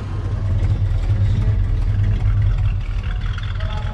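A motorcycle at a small local car show cruise-in, a well-kept older survivor bike, idles close by with a steady, loud low rumble throughout and no talking.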